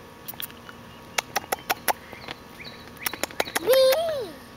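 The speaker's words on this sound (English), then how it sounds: "Bird, do you see a bird?" Short, sharp bird chirps sound in quick scattered bursts, ending with a longer rising-and-falling call, fairly close in a quiet outdoor setting.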